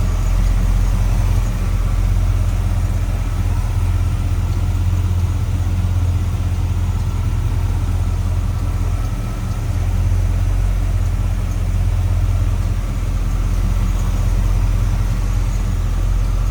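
A restored custom 1949 Chevrolet 3100 pickup engine with chrome valve covers and air cleaner runs smoothly at idle, a loud steady low rumble close by with no talk over it.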